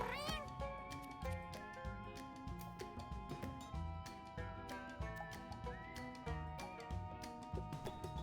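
In-game cat meows, a few short mews over steady plucked game music with rhythmic percussive hits, all fairly quiet.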